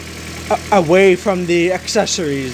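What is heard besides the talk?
2010 Toyota Corolla 1.8 engine idling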